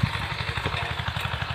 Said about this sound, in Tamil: டிராக்டர் சவுண்டு கேட்கணும்னு நினைக்கிறேன்